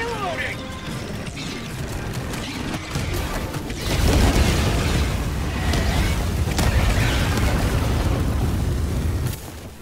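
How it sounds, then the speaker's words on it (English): A bomb blasts in the video game Helldivers 2, a loud, broad boom rising at mid-clip and rumbling on amid battle noise, with voices talking over it. "Watch out, I'm gonna throw a bomb on them, Dev."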